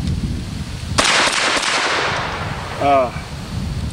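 A single sharp, loud rifle shot from a 7.62x39 firearm cracks nearby and rings out in a brief echoing tail, followed by a short voice.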